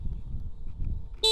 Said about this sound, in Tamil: ஹாரன் அடித்து பார்ப்போம்.